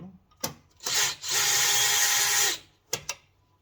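A drill or power screwdriver backing out a taillight screw on a Chevy Trax, a short whir followed by a steady two-second run of motor buzz with a few brief clicks and bumps around it, close and fairly quiet.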